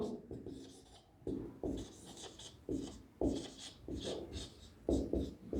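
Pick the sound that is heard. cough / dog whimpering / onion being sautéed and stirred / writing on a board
writing on a board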